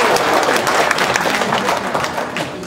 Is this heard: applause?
yes